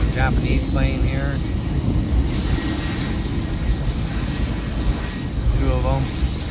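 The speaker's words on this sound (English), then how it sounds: "That's the Japanese plane here." A Japanese military airplane passes over an island in Japan, a loud broad engine roar that fills the whole stretch while someone talks over it and chirping birds come and go.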